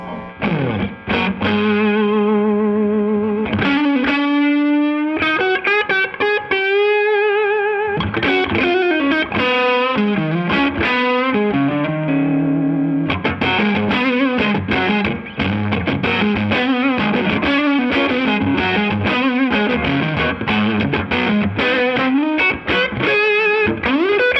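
Electric guitar with mild distortion playing chords and melodic runs, sustained notes ringing out between phrases, loud and upfront with no talking.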